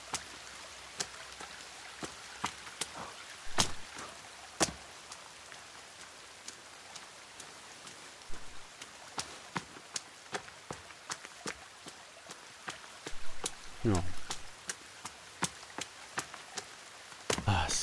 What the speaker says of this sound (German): Regen ist schön.